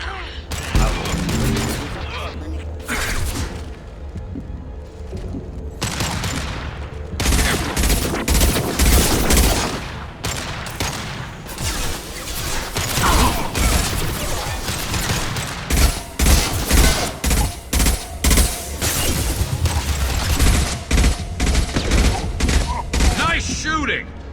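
Sustained gunfire in the game Mass Effect 3 crackles in dense volleys and rapid bursts, loud and close, with booming hits and occasional voices between the shots.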